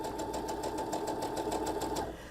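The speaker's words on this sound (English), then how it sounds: "I'm stitching at a moderate rate of speed because fast sewing doesn't make good sewing" A home sewing machine runs steadily at a moderate speed while piecing a quilt block, giving a continuous motor whir with an even, rapid needle clatter close up, then easing off at the end.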